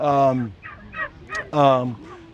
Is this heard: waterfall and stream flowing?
no